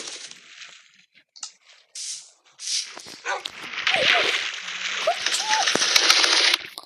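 A dog in Minecraft yelps and whimpers amid bursts of rapid gunfire and game sound effects, with a person talking over it.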